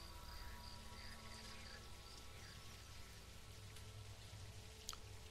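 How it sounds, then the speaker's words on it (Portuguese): Steady light rain falls in a March of the Living game scene, a constant soft hiss with faint insect-like chirps and a low hum beneath, spread evenly with no voices. "Olha, está chovendo, que bonitinho."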